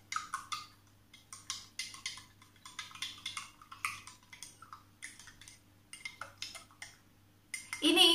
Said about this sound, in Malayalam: ഇനി എന്നിട്ട് നമ്മൾ ഇളക്കി കൊടുക്കുക